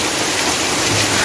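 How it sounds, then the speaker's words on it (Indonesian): Steady, dense rain pours in Kampung Dukuh, Garut, a continuous loud hiss with no break or voices. "Karena keadaannya lagi hujan"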